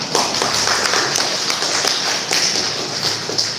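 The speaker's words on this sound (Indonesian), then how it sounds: "Tepuk tangan dulu untuk Pak Irfan." An audience at an academic talk claps together, a dense, steady patter of many hands that continues at an even level throughout the short stretch, with no voices.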